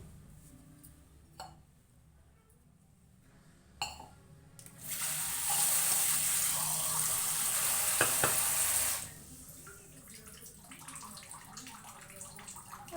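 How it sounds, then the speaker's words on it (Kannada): Water pours steadily for about four seconds, a broad hissing rush that stops abruptly, with quieter kitchen clatter before and after, while making dough for badusha. "ಸ್ವಲ್ಪ ನೀರು ಬೇಕಾಗುತ್ತೆ ನೀರು ಹಾಕ್ಕೊಳ್ಳೋಣಂತೆ"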